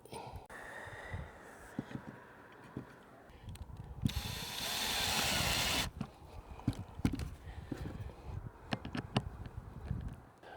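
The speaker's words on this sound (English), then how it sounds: "I'm just going to start it with the drill motor." A drill motor driving bolts into struts for salvaged solar panels on an RV, with one sustained loud whirring run in the middle. Irregular clunks, taps and handling knocks come before and after it, and no one speaks.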